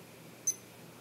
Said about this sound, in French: je vais appuyer sur le bouton central, j'entends le bip